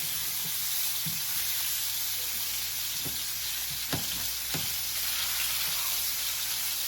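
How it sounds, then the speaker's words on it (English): Lamb chops searing in a pan, a continuous faint sizzle with a few sharp clicks and taps scattered through it, fairly quiet and steady, no one speaking. "So we're letting this sear."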